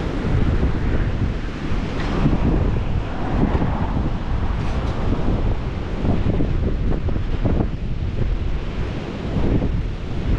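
Strong wind blasts across an open outdoor spot in New Zealand, a loud, continuous low roar and buffeting rumble against the microphone with no pauses and no talking.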